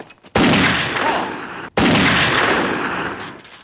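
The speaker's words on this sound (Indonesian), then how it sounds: "Reaksi cepat Forrest meluncurkan tembakan mengejutkan Blackjack." Two loud, close gunshots from a western showdown, each a sharp blast followed by a long rolling echo, the second arriving about a second and a half after the first.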